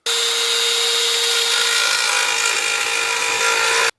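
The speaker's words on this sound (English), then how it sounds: "Dremel with a little sanding attachment" A Dremel with a small sanding attachment grinds a BMW G87 M2 grille, a continuous high-pitched whirring and scraping that holds constant for a few seconds, then stops abruptly.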